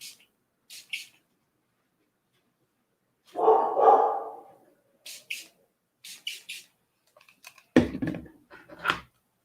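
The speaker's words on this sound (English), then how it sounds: "Sorry, you guys heard my dog bark." A pet dog barks indoors in a quiet room, giving several short, separate barks in scattered bursts, fairly near and otherwise alone.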